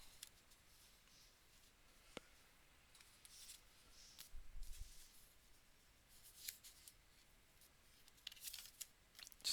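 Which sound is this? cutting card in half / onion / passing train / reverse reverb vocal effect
cutting card in half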